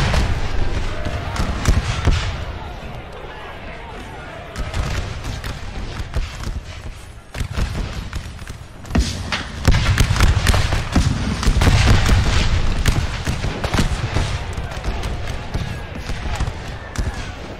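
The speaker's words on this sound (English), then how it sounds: "The effects of the shooting are also pretty awesome." Musket gunfire and battle noise from Napoleon Total War with the American Civil War hardcore mod, at the Shiloh battle, rolls on as dense crackling volleys and booms of varied distance, while someone talks over much of it.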